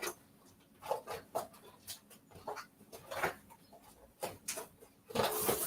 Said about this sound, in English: let's top stitch this side down